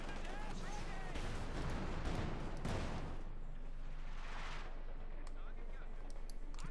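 An artillery barrage in the video game Company of Heroes 2 fighting a T-34-76 tank: dull booming impacts and rumbling fire, fairly faint and somewhat distant, under a commentator's steady talk.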